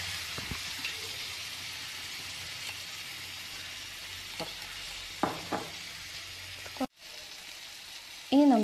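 Chilli prawn masala with red chilli powder sizzles steadily in a pan after half a spoon of vinegar goes in, a soft continuous hiss with a few stirring scrapes, a brief drop near the end, then a sharp clink.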